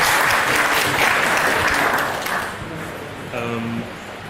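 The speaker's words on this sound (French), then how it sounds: "On peut l'applaudir, hein." An audience at a cybersecurity conference on social engineering gives loud, dense applause that fades out after about two seconds, followed by a brief voice over the hall's sound system.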